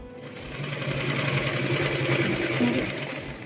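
A sewing machine runs continuously while folding and stitching a half-inch hem along the bottom of palazzo pants, a close, steady, buzzing whir with a faint rhythmic clatter and no pauses.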